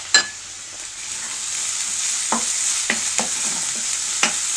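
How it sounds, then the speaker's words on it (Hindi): Chopped onion, garlic and ginger frying on high flame, a steady bright sizzle with several short scraping stir strokes of a spatula in the pan, close, no voices. "तो प्याज को हमने 1 मिनट के लिए हाई फ्लेम पर भून लिया है।"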